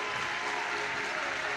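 A large indoor crowd at Crufts 2014 applauds steadily as the Best in Show Standard Poodle takes its lap of honour, an even, sustained roar of clapping throughout.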